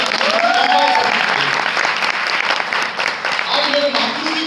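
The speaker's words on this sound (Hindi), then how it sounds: "जोरदार तालियां" Loud, sustained applause from a large crowd, dense clapping filling the whole stretch, with faint voices mixed in.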